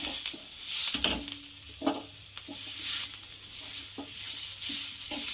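A spoon works a chili mixture around a pan, giving soft scraping strokes and light taps at irregular intervals over a low, steady sizzle, with no voices.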